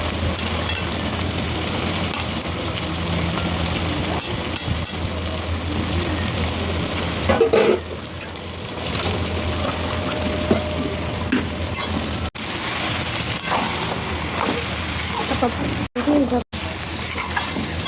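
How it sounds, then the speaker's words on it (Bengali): Meat sizzles and fries in a pan as grated coconut is stirred through it, a steady close crackle with soft scraping from the stirring, continuing without pause throughout. "নারকেল দিয়ে এভাবে মাংসটাকে নেড়ে নেব"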